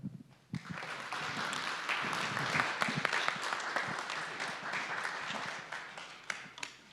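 An audience at the Mob Museum breaks into applause for a speaker taking the stage, a dense, fairly distant wash of clapping that holds steady for several seconds before thinning into scattered claps.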